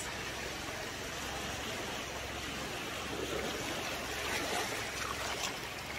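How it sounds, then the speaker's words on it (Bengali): Sea waves wash over coral-stone shore at Saint Martin's Island beach, a continuous broadband rush and hiss of surf with gentle swells, moderately distant, no talking. "সাথে সাথে এই যে ঢেউগুলো"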